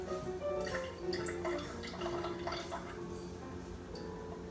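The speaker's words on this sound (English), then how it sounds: "just get a little measuring cup filled with water and just slowly pour that in to 50 grams of water" Water slowly poured from a small measuring cup into sourdough starter, a soft trickle and light splashing over a continuous musical background, with no talking.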